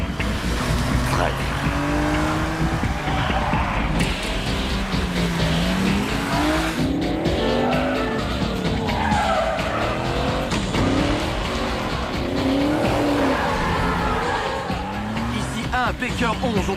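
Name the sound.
car chase with tyre squeal, grey 1967 Ford Mustang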